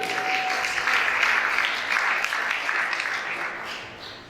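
A church congregation claps and cheers steadily, acclaiming the Lord during a gospel service; dense, continuous applause fills the room, with scattered voices, and slowly tapers near the end.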